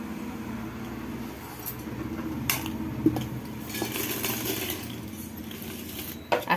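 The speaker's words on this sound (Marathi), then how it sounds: "तळून झालेले आहेत आता आपण डब्यात ठेवूया" Fried papads being placed into a metal storage tin, with scattered light clinks and taps of the tin and crisp wafers, close and moderately quiet with a steady low background hum.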